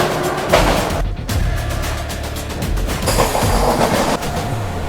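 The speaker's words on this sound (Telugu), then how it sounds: "ట్రావెల్ చేస్తున్న ట్రైన్ వచ్చి 12717 అది రత్నాచల్ సూపర్ ఫాస్ట్ ఎక్స్ప్రెస్." Train 12717 Ratnachal Superfast Express on LHB coaches running at speed, a loud continuous rumble with rhythmic clickety-clack of wheels over rail joints, heard from on board without talk.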